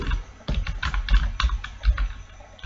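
Text being typed on a computer keyboard, a close run of quick, uneven key clicks and taps with occasional heavier strokes, alone without talk.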